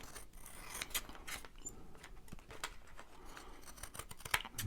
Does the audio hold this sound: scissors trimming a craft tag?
yes